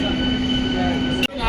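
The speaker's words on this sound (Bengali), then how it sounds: "শিয়ালদা থেকে বেরিয়ে পড়লো ট্রেন হাসনাবাদের উদ্দেশ্যে।" Suburban train pulling out of Sealdah on the Hasnabad line on a foggy early morning: a steady close rumble of rolling stock with a sustained tonal whine, broken by a brief dropout near the end.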